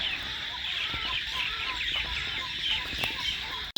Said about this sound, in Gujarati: મસ્ત મજાના પક્ષીઓ જેવા બોલે જો